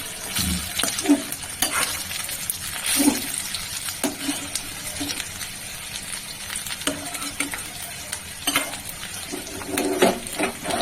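Chicken pakora frying in hot oil, an uneven bubbling sizzle with frequent clacks of a utensil against the pan, close and fairly busy, with no voices.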